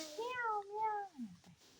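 A toddler of about 1.8 years imitates a cat, giving one drawn-out meow with a rising then falling pitch, followed by a short second sound, close and soft.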